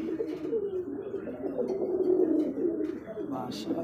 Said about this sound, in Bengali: হ্যাঁ ভাই মাদি কবুতর ডাকে